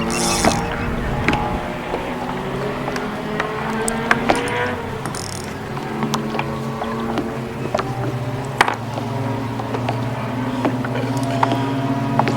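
A motorboat engine drones steadily at a middle distance, shifting pitch as it runs, with scattered clicks and clatter nearby.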